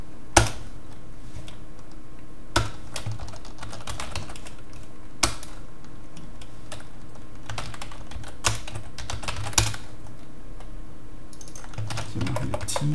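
Steady rapid clatter of code being typed on a computer keyboard for a C# programming session, close and clear with occasional sharper key strikes and no voices.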